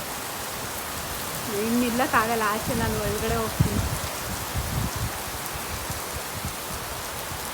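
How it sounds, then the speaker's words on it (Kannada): Heavy rain pours down in Bangalore as a steady, dense hiss throughout. A person speaks briefly partway through, over a few close rustles and knocks. "ಫೈನಲಿ ಮಳೆ ಬಂತು ಜೋರಾಗೆ."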